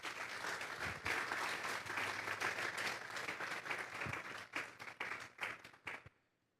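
A church congregation applauds, rapid overlapping clapping that holds steady for several seconds before thinning into scattered claps and stopping; it is fairly faint overall.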